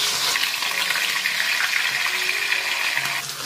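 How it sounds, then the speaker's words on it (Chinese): Fish frying in oil in a wok that is being shaken, a continuous close hissing sizzle with faint scraping and sloshing, fairly loud and unbroken. "接着把我们的鱼肉的这一面呢，先放下来煎"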